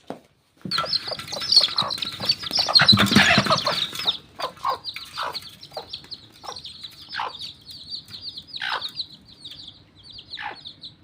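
A hen clucks among chirping chicks at close range, with repeated short calls and peeps. One louder burst of activity stands out near the start, and no one speaks.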